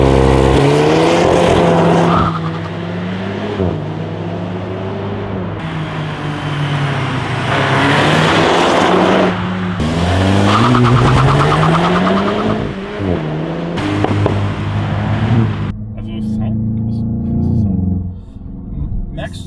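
A VW Golf 8 engine and exhaust accelerate hard, pitch sweeping upward in repeated pulls with brief breaks between gears, roaring close by.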